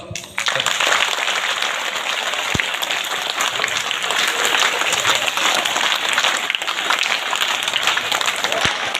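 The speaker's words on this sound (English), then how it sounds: "So please, every students, please applause." Students at an institution break into loud, sustained applause for a teacher, a dense, even roar of many hands clapping that holds strong from start to finish with no voice over it.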